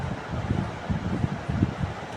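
Outdoors at the Kottai Mariamman temple, wind buffets the microphone in low, uneven rumbling gusts that surge and fade, loud and close, with no voices.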